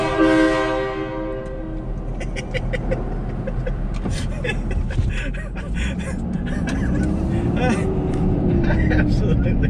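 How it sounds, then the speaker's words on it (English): A VIAIR train horn fitted to a Ford F350 truck blares loud and close, a sustained multi-tone chord that opens strongly and then carries on under ongoing talk and background noise. "Here's my train horn."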